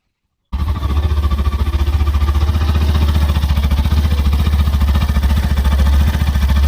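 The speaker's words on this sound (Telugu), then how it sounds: "ఇంజన్ ఒక నాయిస్ కూడా మీరు చూడొచ్చు, చాలా స్మూత్ ఉంది" A new 2025 Hero Glamour X 125 motorcycle engine starts and idles close by, a steady, smooth, even throb that runs unchanged to the end.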